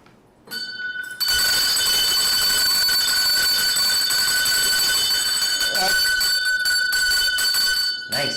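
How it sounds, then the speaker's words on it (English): A bell rings loudly and steadily with a bright, sustained metallic tone that carries on for about seven seconds before cutting off. "Ring the bell."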